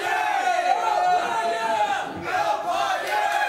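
Fans at a Caribbean poker tournament whoop and bellow together in loud, sustained crowd cheering, with shouted voices rising and falling across the moment.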